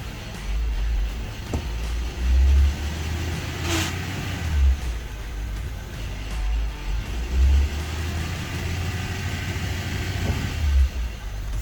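A Honda Civic engine after a manual gearbox swap, droning steadily with repeated surges in revs as it pulls through the gears, loud and continuous for the whole stretch.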